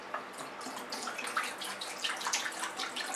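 Water running and gurgling down a drain, a close, continuous splashing trickle with irregular bubbly spatters.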